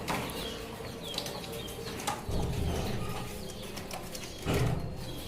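Fancy racer pigeons, a male and female pair, giving low, soft coos along with brief wing flutters, fairly quiet and close by.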